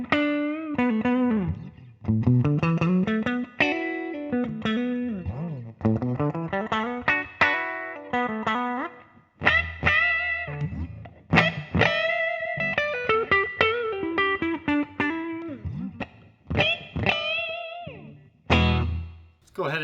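Clean tones from a 2004 Gibson Les Paul Standard with quilt figured top, played on the neck and middle pickup settings: picked chords and melodic runs with a sustained, slightly effected shimmer, steady and close throughout.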